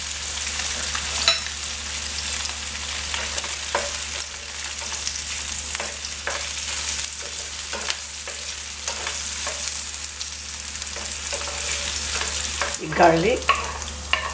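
Oil crackling and sizzling in a hot pan for sausage egg noodles, a continuous bright fry with occasional stirring clatter and a single brief spoken word.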